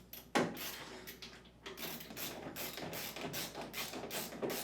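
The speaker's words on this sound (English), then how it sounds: "Next, reinstall the 2 screws by the detergent dispenser." Screws being driven back in near the detergent dispenser of an LG Kenmore front-load washer, a run of close ratcheting, whirring mechanical bursts with small knocks, no talking.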